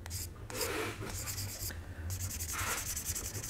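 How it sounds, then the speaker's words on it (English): Light sanding of a plastic seam on a Tamiya 1/48 F-4B Phantom scale model kit with fine 800-grit sandpaper, giving soft, steady close-up rubbing strokes in a quiet room. "Maybe I can give this a light sand."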